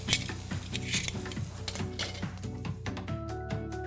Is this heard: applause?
no